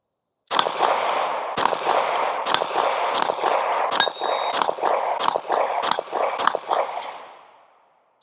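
A SAR9 pistol fires a rapid string of about ten shots, each followed by a sharp ringing clang from steel targets at a shooting range, evenly paced, loud and fading out after the last hit.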